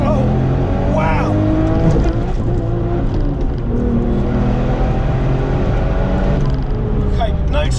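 A 575 BHP Porsche 911 996 Turbo X50 pulls hard at wide open throttle in second gear on a canyon road, its loud engine note rising and sweeping up steadily through the run, with a voice speaking briefly over it.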